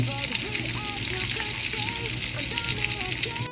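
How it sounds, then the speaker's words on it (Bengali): Bottle gourd with egg and lentils fries in a pan, making a loud, continuous close sizzle with a steady hiss and no pauses throughout. "এখন আমি এটা ভালো করে ভেজে নেব"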